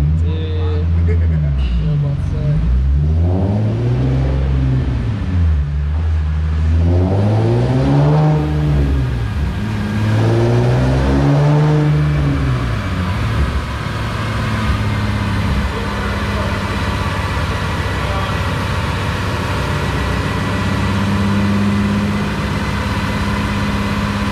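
A Nissan 350Z on a dyno revs repeatedly in fourth gear, the engine note sweeping up and falling back in several loud, close waves before settling into a sustained high drone.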